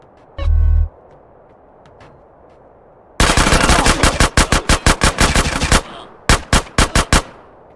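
Gunfire in GTA San Andreas Definitive Edition: a single heavy low shot, then a long rapid automatic burst followed by a string of loud evenly spaced shots, close and alone.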